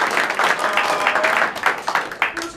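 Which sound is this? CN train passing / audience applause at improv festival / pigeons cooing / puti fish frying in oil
audience applause at improv festival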